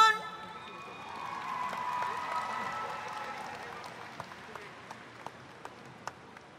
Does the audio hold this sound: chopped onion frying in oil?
no